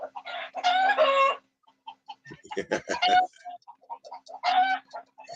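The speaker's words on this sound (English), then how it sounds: "Then let the chicken in for dinner." Chicken clucking near the listener in several loud bursts separated by short gaps, with quieter clucks and chirps in between and no talk.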